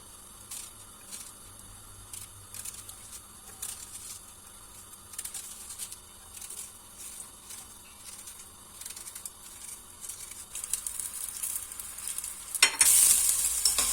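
A thin sliced onion frying in a little oil in a pan, with a steady soft sizzle and scraping stirring sounds that grow louder and busier near the end.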